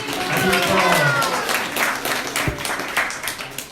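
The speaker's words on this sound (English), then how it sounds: "So let's give a good round of applause for Janani." An audience applauds a bhajan singer at a Janmashtami celebration at a Round Rock ISKCON temple, a dense burst of clapping that thins out over a few seconds, with a voice speaking over it at the start.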